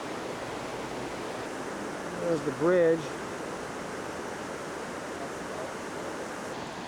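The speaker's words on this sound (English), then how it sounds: "as you can hear from next door is a creek, or maybe that would be a river" A creek or river flowing beside a town wall near its gate, a steady broadband rush of water running throughout, with a brief spoken remark partway through.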